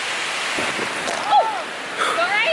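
A big waterfall in the Chiang Mai jungle of Thailand gives a steady, broad roar of rushing water throughout, with a voice speaking briefly over it and birdlike chirps near the end.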